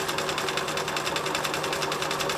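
A sewing machine stitches half square triangles in a fast, even, continuous whir of needle strokes, close and steady throughout.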